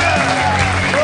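A live comedy-show audience cheers and applauds in a loud, dense, continuous wash of clapping, with a voice speaking over it.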